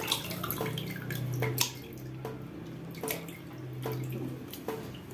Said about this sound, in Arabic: شوف السمك، صفي الميه كده.